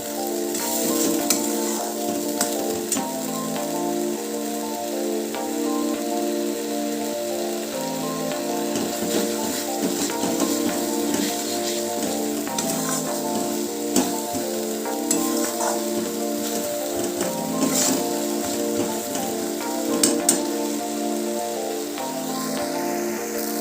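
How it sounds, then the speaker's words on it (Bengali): Ground spice paste frying in oil in a pan for a lentil fritter curry, a continuous crackling sizzle with steady scraping and stirring strokes, close and moderately loud, no talk. "তেল ছাড়া পর্যন্ত একটু হালকা ভাজবো মশলাটা আমি।"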